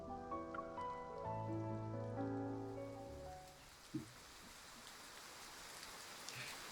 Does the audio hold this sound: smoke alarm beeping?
no